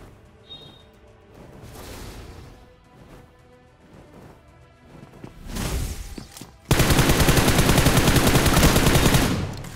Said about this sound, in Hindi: DBS की गोली चली लेकिन चिपकी नहीं मुझे